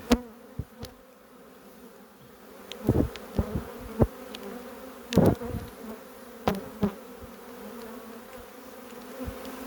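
An agitated honeybee colony inside a swarm trap hive gives a steady close buzzing hum, with several louder bursts of individual bees flying near.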